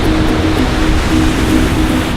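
Waves surge and wash around a rock in the foreground beneath a waterfall in icy Central Oregon, a loud, steady, close rush of water with no pauses.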